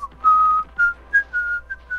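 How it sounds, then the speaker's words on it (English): Someone whistles a short, wavering tune up close, the bright notes clear and prominent against a quiet background. "What is that whistling?"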